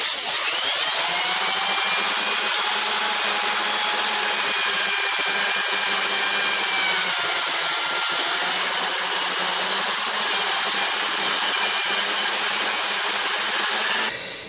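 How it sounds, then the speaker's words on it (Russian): A leather handle is polished with a piece of old denim cloth, producing a steady, loud, continuous friction whine, probably from a machine, that holds without pause and then stops abruptly. "То есть буду полировать тканью."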